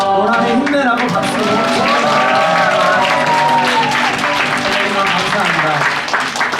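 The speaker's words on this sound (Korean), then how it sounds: "힘내라고 박수" Applause from an audience at a high school chapel service, steady clapping throughout mixed with singing or music and voices on top.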